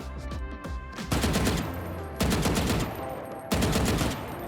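Rapid automatic gunfire from a stationary player in Valorant, three sustained bursts separated by short pauses, loud and close.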